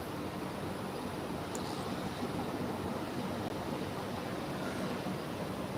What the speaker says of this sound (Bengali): ঢেউ ধীরে ধীরে অনেক বাড়ছে